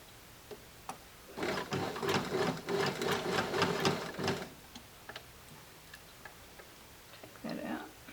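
Sewing machine stitching fabric in a quick steady run of rapid ticking stitches lasting about three seconds, with a short second burst later, near and fairly quiet in a room.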